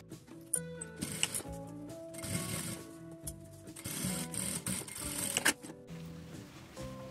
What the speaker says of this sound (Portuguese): E passo uma costura reta aqui.